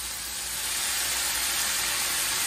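Sherry cooking wine hitting a hot pan with a steady, loud hiss that holds evenly without a break.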